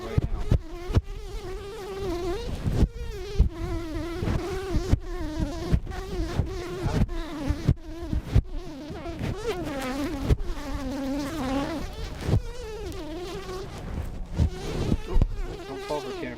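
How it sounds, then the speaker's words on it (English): A honey bee trapped inside a microphone buzzes loudly and very close, its erratic whining drone rising and falling with sharp thumps as it beats against the mic, with no talk. "There's literally a bee in the microphone right now."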